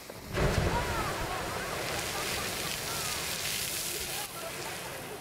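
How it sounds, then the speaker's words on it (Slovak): Strokkur geyser in Iceland hisses and gushes with a steady, loud broadband roar that starts abruptly and holds nearly unchanged for about five seconds, like rushing water and steam close by. "Tento obrovský gejzír totiž chrlí vodu zhruba každých 5 minút."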